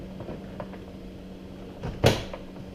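Ford Explorer interior door panel pulled loose from its retaining clips during a speaker install, giving one sharp, close clunk and rattle near the end after a quiet stretch of faint handling noise.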